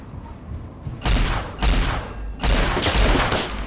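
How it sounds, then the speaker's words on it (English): An enemy's super gun in Fallout 3 fires in three heavy bursts of rapid gunfire with booming low thumps, each lasting around half a second to a second, separated by short pauses. "This guy has some fucking super gun."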